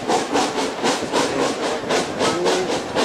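A steam locomotive on the Plym Valley Railway, hauling a North Pole Express heritage train, chuffs in loud, steady rhythmic bursts, with a hissing wash of steam and running noise filling the gaps.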